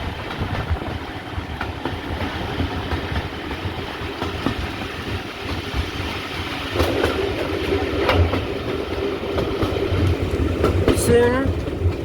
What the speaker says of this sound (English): 5239 Glath on the Paignton Dartmouth Steam Railway.